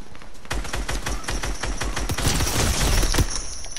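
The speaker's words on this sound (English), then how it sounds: "Somebody is shooting at us." Rapid gunfire in Fortnite, loud bursts of repeated shots crackling in quick succession, building in density toward the end.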